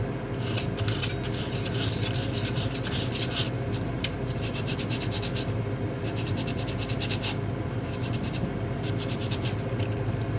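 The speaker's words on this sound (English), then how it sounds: "Just taking some sandpaper to it," Sandpaper rubs steadily across a knife sheath piece, roughing it up to take glue. The close, continuous dry rasping comes in quick back-and-forth strokes that run without a break.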